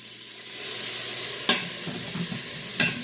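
Broth poured in with a browning pot roast sizzles steadily in the pot at moderate volume, with a couple of sharp clinks of a utensil against the pot.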